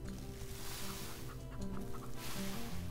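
Chickens clucking in a large pen on a farm in the video game Farm Together, a steady close layer of game clucks over ambient farm sound, with no talking.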